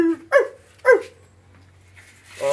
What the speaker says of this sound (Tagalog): Yung aso ko.